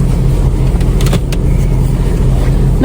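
Car engine idling steadily on a cold winter day in Japan, heard from inside the heated cabin as a low continuous hum with faint rustling and a brief voice at the end.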